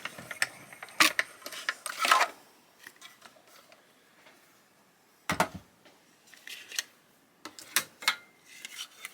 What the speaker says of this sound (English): I'm just going to run it through the machine.